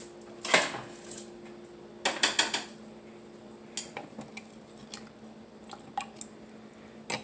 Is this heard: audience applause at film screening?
no